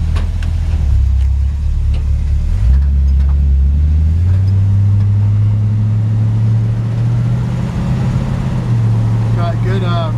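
A 350 V8 in a 1952 Chevy 3100 pickup with a C10 front clip and an automatic transmission runs steadily. The low rumble shifts pitch slightly partway through, and a voice is briefly heard at the end.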